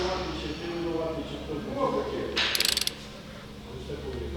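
A ratchet or torque wrench tightens injector bolts on a Renault Master M9T bi-turbo engine, giving a quick burst of close metallic clicks partway through, with someone talking around it.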